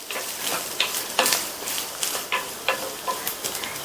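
Coconut pieces sautéing in ghee in a pan, with a soft sizzle broken by a series of crisp scraping and tapping strokes from a spatula in an uneven rhythm, close and free of speech.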